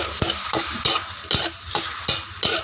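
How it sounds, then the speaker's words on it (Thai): Shrimp and squid stir-fried in a hot pan with a splash of soup stock: a steady sizzle broken by regular scraping stir strokes, roughly two or three per second, loud and close with no talking. "ผัดกุ้งปลาหมึกใส่หยอดน้ำซุปนิดหน่อย น้ำซุปแล้วก็คน เข้ากัน"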